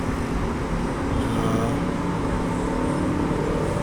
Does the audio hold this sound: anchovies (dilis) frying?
no